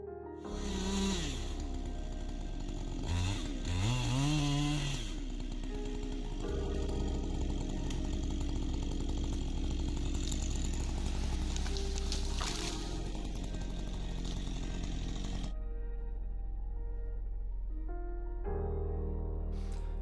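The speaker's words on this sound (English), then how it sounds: "chainsaw use and tree felling" A loud, close chainsaw engine runs continuously while felling a tree, its pitch revving up and down as it bites and cuts, with a steady buzzing drone throughout.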